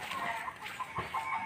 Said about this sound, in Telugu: అది కోడి చూడండి ఇప్పుడు సౌండ్ చేస్తుంది